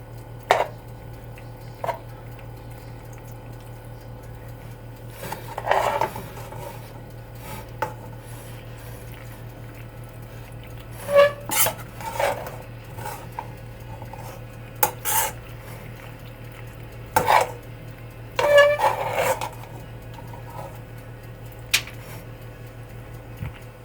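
Tuna pasta with mayonnaise is stirred in a bowl, giving intermittent clinks and scrapes of a utensil against the dish over a low steady hum, in irregular bursts.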